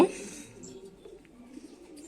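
Soft racing pigeon coos murmur at low volume, a quiet, hollow rumbling that rises and fades across the moment with faint background hiss.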